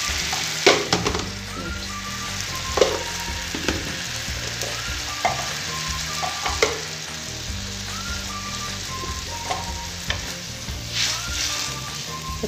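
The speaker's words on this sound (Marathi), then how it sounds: "तुम्ही बघू शकता छान अशी उकळी फुटलेली आहे" Thick besan pithla bubbles and sizzles steadily in a pan on the stove, with soft scraping stirs and small pops recurring close by, no voices over it.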